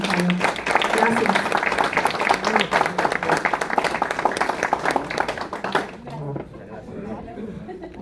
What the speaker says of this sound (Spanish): Les pido un aplauso por favor para el autor y para los presentadores